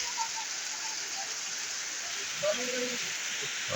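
Steady rain hissing outdoors at the start of winter, an even wash of falling water, with a faint voice murmuring underneath.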